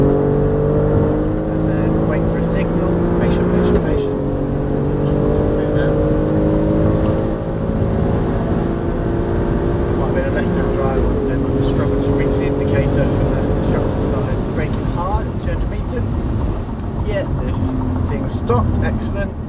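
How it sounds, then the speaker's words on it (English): Loud, close engine drone of a 510 bhp Alfa Romeo Stelvio Quadrifoglio heard from inside, rising in pitch through repeated gear changes with sharp shift cracks, while someone talks over it. "I love that noise, that crack of the gear change"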